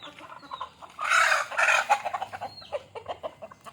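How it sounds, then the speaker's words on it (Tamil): Chickens cluck and squawk inside a coop in a burst of overlapping calls, loud and near, with a louder flurry in the middle and scattered single clucks afterward. "கோழி"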